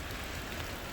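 Rain falling on a teardrop camper parked under trees during a winter storm, a dense, even hiss of drops pattering on the surface, close and continuous.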